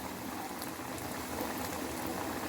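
Sabudana and coconut pitha frying in hot oil, giving a steady, dense bubbling sizzle that stays even and close throughout with no talk.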